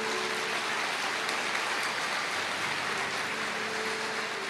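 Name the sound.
congregation applauding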